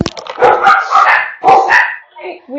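Several pet dogs bark loudly and repeatedly at close range indoors, sharp overlapping barks with brief whines in between, a voice briefly heard near the end.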